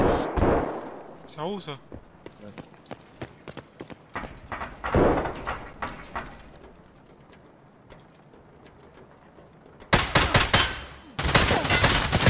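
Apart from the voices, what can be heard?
gunfire in video game Escape from Tarkov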